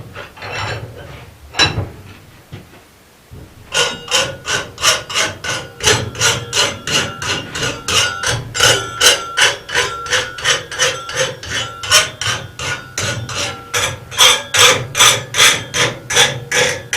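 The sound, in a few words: rasping a forged metal latch body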